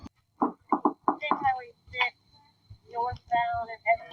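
Knocking on a door, a quick series of firm raps followed by a pause and more knocks, mixed in with overlapping speaking voices nearby.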